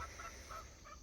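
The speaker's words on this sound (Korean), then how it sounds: "우리 닭이 꼬꼬대거립니다" Farmyard chickens clucking and honking in short repeated bursts after their morning feed, faint and somewhat distant, with no voices.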